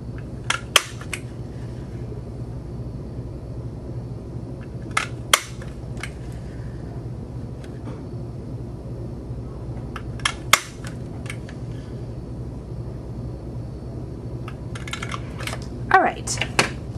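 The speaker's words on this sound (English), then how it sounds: "line it up again and punch again" A handheld paper punch bites repeatedly along a strip of paper to cut a scalloped edge, giving sharp, crisp clicks in uneven clusters with quiet gaps in between, over a low steady hum.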